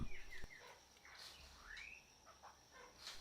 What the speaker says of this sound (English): Plenty of lesser necklaced laughing thrush always around this area.